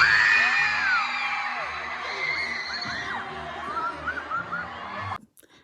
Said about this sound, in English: twice as much screaming when he came out on stage